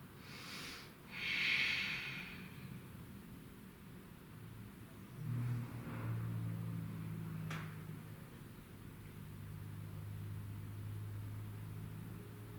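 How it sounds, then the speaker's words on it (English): Slow, audible breathing during a vinyasa yoga rest, a soft nasal inhale or snort near the start followed by quieter exhales over low room hum, with no talking. "Just a few breaths here."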